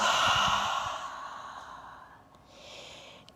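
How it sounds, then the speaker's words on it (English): A deep, breathy exhale blown out through the mouth during a yoga flow in downward dog, close and alone, tapering off before a soft catch of breath at the end. "Take a deep breath in down dog. Exhale out the mouth."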